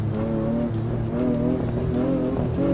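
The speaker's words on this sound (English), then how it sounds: "I like that induction noise there when I first hit the throttle." A racing car engine in the Assetto Corsa Evo racing game drones and rises in pitch under throttle, with a steady induction hum and layered harmonic whine, loud and continuous.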